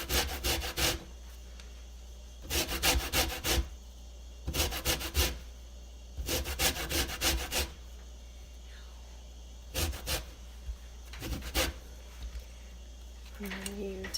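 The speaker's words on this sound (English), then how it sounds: "You just kind of get off the outside. You don't want to get all the way into the orange." Small hand grater rasping the peel of an orange to take off the zest, heard as several separate bursts of scraping strokes with pauses between them, close and fairly loud.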